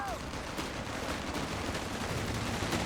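A support-center strafing run in the video game Company of Heroes 3 lays down rapid, scattered bursts of gunfire. The shots sound fairly faint and distant over a dense, steady battle ambience.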